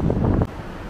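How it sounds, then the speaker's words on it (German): Strong wind buffets a hilltop by a tower at an old hillfort, roaring loudly into the microphone, then dropping abruptly to a lower, steady rush about halfway through. "Ich mache mal kurz Pause, weil es einfach zu extrem ist, der Wind hier oben."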